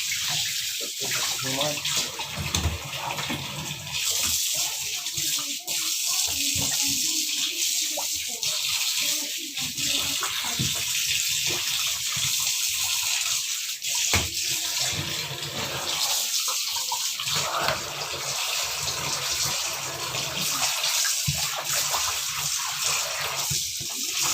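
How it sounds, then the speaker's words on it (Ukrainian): Cold water runs steadily from a tap for over twenty seconds in a home kitchen while fish is prepared, a broad continuous gush with occasional voices talking over it. "Холодна вода."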